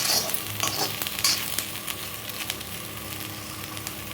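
Potatoes sizzle steadily in a hot pan for poha, a dense close hiss of frying oil with a few light scraping stirs.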